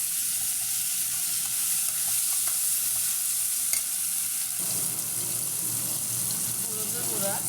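Spice paste (masala) of garlic, ginger and cumin frying in a pan for tengra fish curry, a steady close sizzle with stirring scrapes throughout and a faint tonal hum in the first half.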